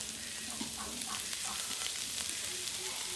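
Red potato bhaji frying in a pan, a soft, continuous sizzle with faint crackles and the occasional light stir, steady and fairly quiet throughout.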